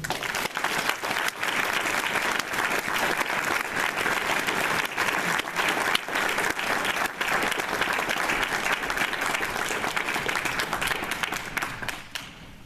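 An audience applauds to welcome speaker Don Behnke, a steady dense wash of many hands clapping at close range that keeps going for about twelve seconds before thinning out.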